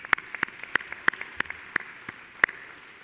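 Graduates at a fall university commencement ceremony applaud in a thin scattering of claps, a few distinct sharp hand claps ringing out in an uneven rhythm at moderate distance.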